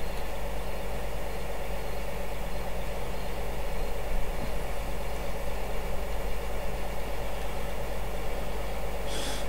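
Tractor engine in Farming Simulator 2015 idling and running steadily, a constant loud droning rumble with no breaks and no talk.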